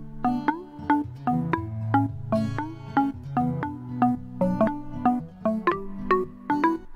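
A tropical house beat programmed in MuLab and played dead straight without swing: crisp plucked synth notes strike in a steady, mechanically even pattern over a warm bass line, with nobody talking.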